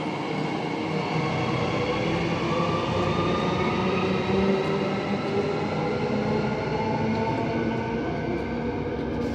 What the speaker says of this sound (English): The terminating train is going down to the siding.